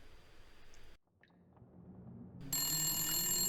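An old telephone rings in The Long Dark, a first-person wilderness survival game, its bright bell clanging in sharply after a stretch of dim ambient wind and rumble, loud and sustained to the end.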